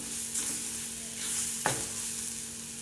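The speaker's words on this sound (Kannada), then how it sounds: "1-2 ನಿಮಿಷ ಫ್ರೈ ಮಾಡೋಣ" Spices for masala chitranna fry in plenty of oil with a steady close sizzle while a spoon stirs through the pan, making a couple of soft scrapes, with no talking.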